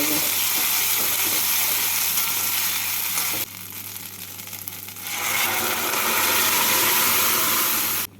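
Ginger and fennel paste frying and being stirred in a pan for biulir dal gives a dense, continuous sizzle that softens briefly in the middle before returning at full strength.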